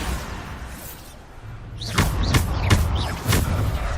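Bombarda blast spell effects in the Hogwarts Legacy video game arrive as a quick run of heavy, booming thuds after a quieter opening, each impact loud and punchy.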